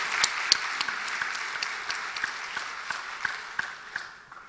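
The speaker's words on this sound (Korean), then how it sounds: "우리 박수로 뜨겁게 한번 감사하십시다" A church congregation claps during an evening Sunday service, a fairly quiet, steady patter of many hands with some distinct louder claps, gradually tapering toward the end.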